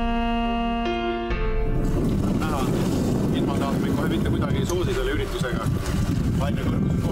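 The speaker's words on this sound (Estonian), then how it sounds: "Tuule kiirus püsivalt 9 ja puhanguti 11 meetrit sekundis." Strong wind at sea, blowing steadily around 9 m/s with gusts to 11 m/s, roars into the microphone aboard a boat escorting the Sweden to Estonia swim, a constant loud rush over the water with a brief tone at the start.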